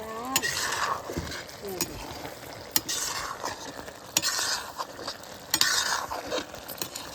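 Semi sag greens with tomato fry in a pan in a rural home kitchen while a spoon stirs them, giving steady sizzling with scraping strokes and a few sharp utensil clicks. Someone talks faintly underneath.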